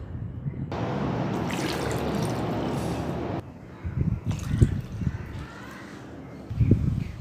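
Water pours steadily into a pressure cooker of ground tapioca batter for a few seconds, a continuous splashing fill that then stops, followed by a few soft knocks and handling sounds nearby.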